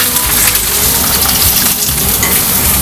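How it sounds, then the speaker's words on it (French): Organic eggs fry loudly in a pan with a dense, continuous crackling sizzle and spatter throughout, no voices over it. "on va faire cuire quelques petits œufs"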